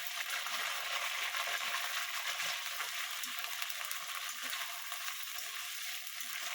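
Chicken pieces fry in a pan with onions already browned red, giving a loud, continuous sizzle with occasional light clicks of stirring and no talk.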